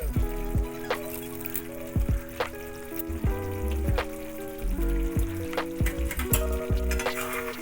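Ghee sizzles in a frying pan over a dish of radish, a soft, steady frying crackle under repeated clinks and scrapes of a utensil against the pan, close and fairly quiet.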